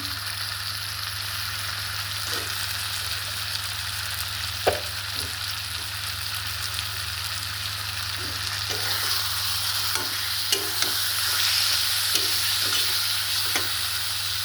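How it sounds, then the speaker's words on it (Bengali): Chicken marinated with salt, turmeric and lemon juice sautés in a pan for mustard chicken curry, a constant close sizzle that grows slightly louder midway, punctuated by occasional soft stirring scrapes. "ভালো করে কষে নেব।"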